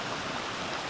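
River water flowing steadily along the Appalachian Trail in Connecticut, a continuous broadband rush close by with no other sounds.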